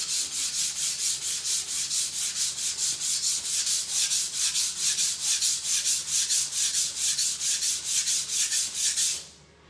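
A knife blade being polished on a whetstone with long, even strokes across the whole stone, a steady rhythmic scraping that repeats about three times per second, close and alone, then stopping.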